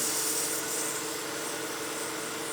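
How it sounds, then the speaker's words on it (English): Steady, close rasping and rubbing of sandpaper against a wooden spinning top turning on a lathe, a continuous hiss with a faint underlying hum and no talking. "So we want to make sure to sand this just nice and light."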